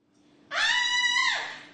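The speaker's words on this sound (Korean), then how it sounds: "여자 화장실에서 비명이 들립니다." A woman in a women's restroom lets out a single sustained high-pitched scream lasting about a second, loud and close, fading at the end.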